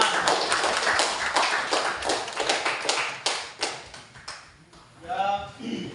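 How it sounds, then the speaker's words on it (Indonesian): Students in a classroom clap in a brief, quick round of distinct claps that fades out, followed by a short voice. "Tepuk tangan."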